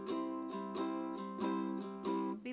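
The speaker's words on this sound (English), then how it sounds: "Where a strum sounds like this" Ukulele strummed in a steady rhythm, five or six bright chord strokes about half a second apart, close and clear with no talking.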